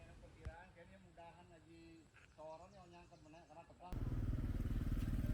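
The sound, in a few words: motorcycles passing by on a rural road in Bali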